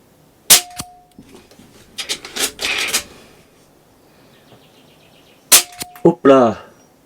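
Two sharp, snappy shots from a Snowpeak M60 .22 air rifle, several seconds apart, each with a brief metallic ring, mixed with mechanical clicks and handling noises up close.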